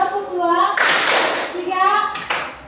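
Classroom children clap together in a counting game, a burst of hand claps between stretches of a teacher's sung or chanted voice, loud and near, ending with a sharp final clap.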